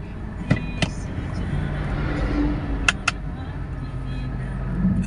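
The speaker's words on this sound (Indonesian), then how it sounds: "di belakang banyak kendaraan truk ya" Trucks passing on a busy road from behind, a steady low engine rumble with a few sharp rattling knocks, moderately close, with a voice speaking over it.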